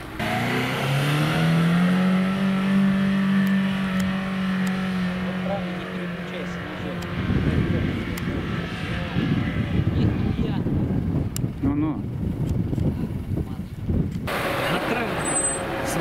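A 4x4 off-road vehicle driving on sand: the engine revs up and holds a droning pitch, then gives way to rough wind and rumbling tire noise, with people talking under it.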